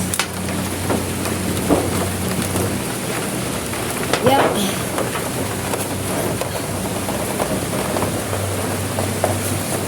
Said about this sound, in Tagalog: Inabot na po ako ng ulan guys